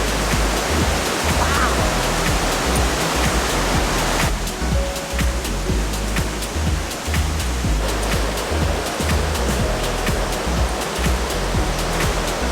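A swollen, muddy river in Mexico during the rainy season rushes past, loud broadband roar of churning water close by, continuous and steady with gusty low rumble underneath.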